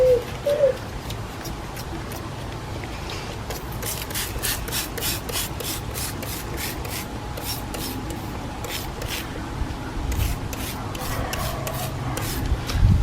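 Scrubbing brake dust off alloy car wheels with iron remover, a steady close rasping rub with repeated brushy strokes running throughout, no voices.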